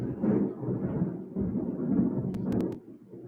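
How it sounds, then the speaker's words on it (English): Low thunder rolls on for several seconds after a lightning flash, a steady distant rumble with no voices, and a few faint sharp clicks near the end. "I saw the flash and I was waiting to see how long it would take to thunder"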